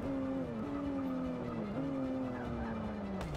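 A BMW M2 in the Forza 6 racing game brakes hard, its engine tone dropping in steps under a steady tire skid and road roar, loud and up close, with no talking.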